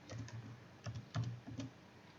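Typing on a computer keyboard while writing HTML list code, close and soft, with irregular bursts of quick keystrokes and short pauses.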